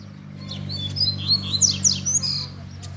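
A double-collared seedeater sings close by, a quick series of bright, high chirps and trills over a low steady hum.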